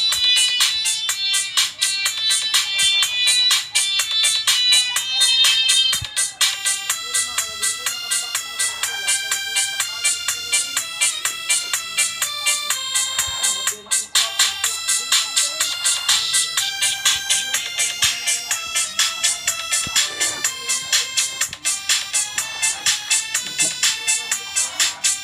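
Bright, dense high-range tones pass through an amplifier crossover set to split mid from high and trim bass, playing steadily and loudly for the whole stretch with a brief dip partway through.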